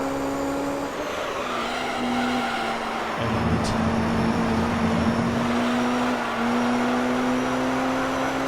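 A racing car engine in Gran Turismo 3 drones steadily at high revs, then shifts down into fourth gear near a gravel trap. The pitch drops briefly before climbing again, with a voice speaking over it.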